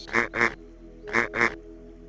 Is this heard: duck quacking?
yes